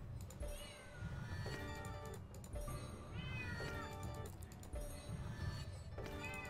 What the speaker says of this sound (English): Got a cat meowing at the door.